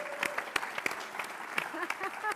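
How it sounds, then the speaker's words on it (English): An audience at a convention session giving scattered, fairly light applause with distinct individual claps, heard alone and at moderate distance. "give Daniela a round of applause"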